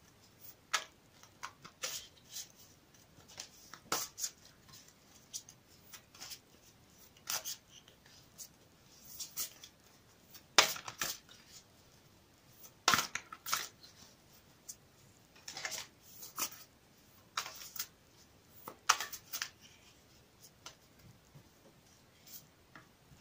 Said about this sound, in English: I'll shuffle it again for you on camera.